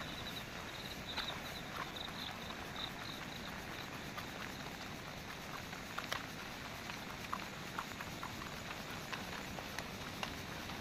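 Steady rain patters down on a fog-covered hill at Mandangad fort, a dense, even wash with scattered brief drips and taps. It holds at a moderate, constant level throughout, with no talk.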